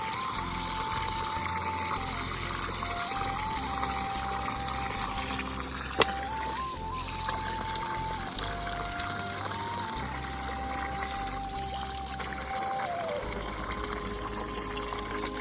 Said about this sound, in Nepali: त्यहाँ पाइपमा जम्मा भएको थियो नि त, त्यो जम्मा भएकोमा चाहिँ पानी आयो